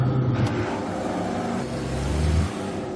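A car accelerates close by, its engine note rising and holding as a steady throaty drone for a few seconds before dropping off near the end.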